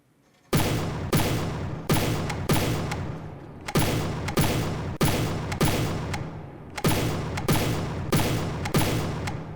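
Rapid gunfire from a weapon in the video game From the Depths: a steady series of loud, sharp bursts, roughly a dozen in quick regular succession, each decaying briefly before the next, with no talking.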